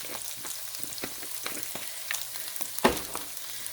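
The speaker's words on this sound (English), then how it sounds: "We'll stir these things. They're starting to golden brown a little bit." Food frying in a pan, seasoned with garlic salt, hisses steadily while being stirred, with scraping stirs and a sharper clatter near the end.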